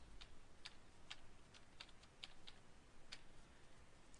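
Keys on a computer keyboard are tapped in short irregular bursts, quiet and close, with small pauses between the clicks and no voices present.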